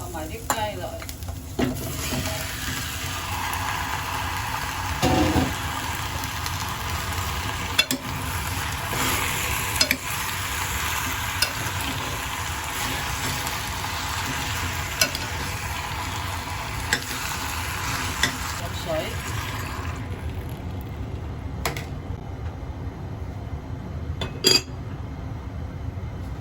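Marinated chicken, seasoned with soy sauce, salt, pepper and a little sugar, stir-fried in a wok for braised chicken with mushrooms, giving a steady loud sizzle with repeated scraping stirs and occasional metallic clinks throughout.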